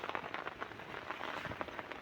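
Rain patters in a forest during taro digging, a faint, even wash of drops tapping on leaves and surfaces for two seconds with no voices.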